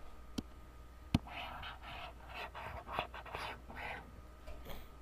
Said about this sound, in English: I'm going to erase these first.